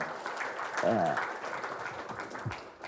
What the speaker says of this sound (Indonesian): Tepuk tangan untuk kalian jenderalnya Gus ya.